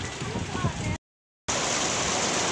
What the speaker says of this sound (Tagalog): Lakas ng ulan yan.